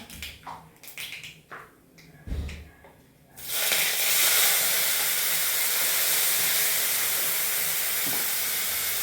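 Onion, curry leaves and green chili hit hot oil with popping mustard seeds, bursting into a loud, steady sizzle and hiss after a few sharp pops and stirring clatters.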